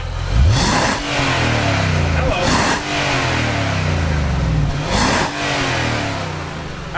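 A 2019 Infiniti QX80 revs hard through its tucked-under exhaust, climbing and dropping in three or four loud, raw surges with no limiter cut. The sound is close, and a voice briefly speaks over it.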